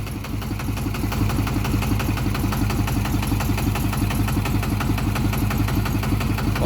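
A single-cylinder tractor engine idles steadily, its rapid, even chugging thump close and loud throughout.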